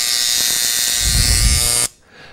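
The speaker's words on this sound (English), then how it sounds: "This is an engraver from Dremel." A Dremel engraver buzzes against a wood surface to texture it, a loud, steady, high-pitched electric whine that cuts off abruptly near the end, with no voices.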